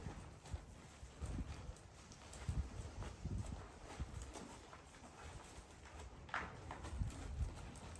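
A horse lopes in an even three-beat clip-clop on ground, moderately close and steady throughout, with birds chirping faintly in the background and no talk.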